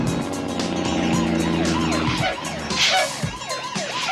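Police car siren wailing loud and close during a car chase, its rising and falling sweeps layered over a steady engine roar, with a vehicle rushing past near the end.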